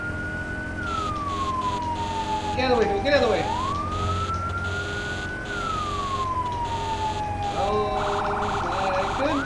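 Fire engine siren in a firefighting simulator video game wails in long rising and falling sweeps, loud and close, with a shouting voice over it midway and a faster yelping pattern near the end.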